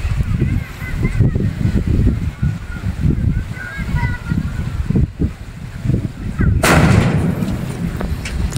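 A firecracker is test-fired ahead of New Year celebrations, giving one loud, sudden blast about two-thirds of the way through. It is preceded and followed by people talking over rough outdoor background noise.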